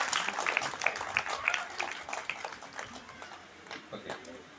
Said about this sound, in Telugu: గట్టిగా ఒకసారి చప్పట్లు తగ్గండి